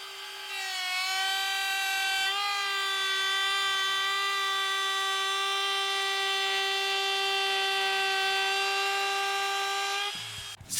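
A router fitted with a 1/4 inch cove bit cuts wood with a loud, steady high-pitched motor whine that holds for about ten seconds, then cuts off abruptly.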